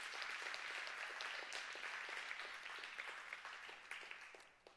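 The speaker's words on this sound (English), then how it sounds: "Give them a round of applause." A church congregation at a Sunday service claps in a full round of applause, soft and somewhat distant, thinning out and fading gradually toward the end with a few louder individual claps.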